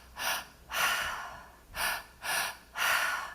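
Five deep, rushing breaths drawn in during a guided breathwork session, each a loud, close, airy inhale or exhale about half a second long, spaced in a slow, steady rhythm with no talking.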